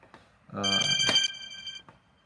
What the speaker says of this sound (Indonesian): Oke, sorry ada telepon.